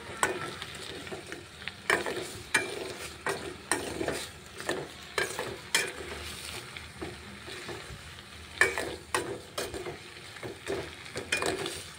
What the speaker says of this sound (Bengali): তো আস্তে আস্তে চামচ দিয়ে লাগা দিচ্ছি আমি